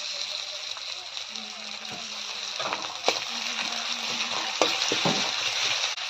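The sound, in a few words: sautéing ginger garlic paste in a pan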